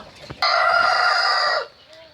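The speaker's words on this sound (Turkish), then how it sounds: "Burada da astrolop tavuk, horoz ve ataks cinsi yumurtacı tavuklarımız var." A single loud rooster crow rings out close by, drawn out for about a second before trailing off into quiet.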